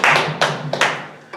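A handful of people clapping after a book presentation, a few loud close hand claps in quick, uneven bursts that fade into quiet.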